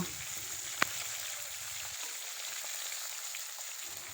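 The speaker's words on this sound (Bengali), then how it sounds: "প্রথমে মাছের মাথাগুলো আমি লাল লাল করে ভেজে নেব" Fish heads fry in mustard oil in a pan, giving a quiet, steady crackling sizzle with one sharp click near the start.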